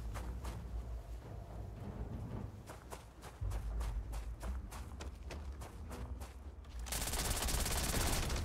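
Rapid gunfire from a gun in the video game Starfield, a steady run of quick, evenly spaced shots at fairly low level, ending in a loud burst of noise.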